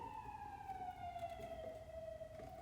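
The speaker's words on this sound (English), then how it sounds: "Can you hear that police car?" A police car siren passing outside, a steady wailing tone sliding slowly lower as it moves away, heard from indoors at a moderate distance with no talk over it.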